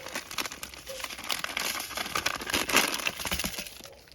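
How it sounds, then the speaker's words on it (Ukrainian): Coarse salt pours and patters steadily from a one-kilogram bag onto lamb meat, with a crinkly, rustling texture, close by, swelling briefly in the middle. "І засипати щільно солью"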